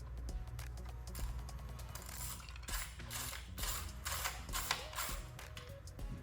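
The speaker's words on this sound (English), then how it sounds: "now I'm going to use my 8mm socket to simply remove this screw right here" An 8mm socket on a ratchet removes a screw in the engine bay of a 2015-2023 Ford Explorer 2.3L, making close, busy mechanical clicking and ratcheting with metallic taps at varied pace.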